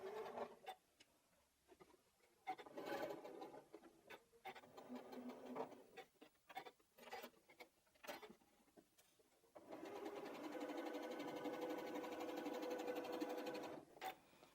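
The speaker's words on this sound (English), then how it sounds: "So we can take those to the machine, and sew" A sewing machine stitching quilting fabric pieces for a teddy bear block, starting with short stop-start bursts and then running in one steady, continuous whir for several seconds, fairly quiet and close with no talking.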